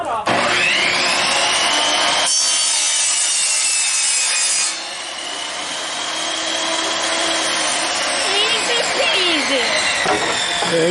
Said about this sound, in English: I'm just going to cut that knot off